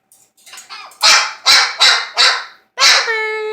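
A dog barks indoors, several sharp, loud, close barks in an uneven rhythm after a few softer yips, the last one trailing into a whine.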